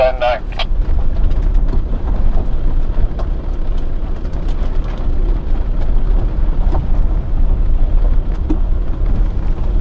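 A car drives down a field road near Arras, giving a loud, steady low rumble mixed with wind buffeting, and people talk inside the vehicle.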